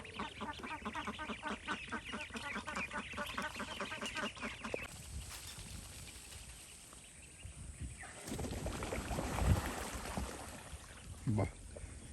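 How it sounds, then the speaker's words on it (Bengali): Young village ducks near a marsh make a rapid series of quacking peeps for several seconds, then fall quiet amid outdoor noise, with soft voices and a couple of brief knocks later on. "হাঁসের বাচ্চা এক দৌড়ে এই যে বিলে চলে আসলো"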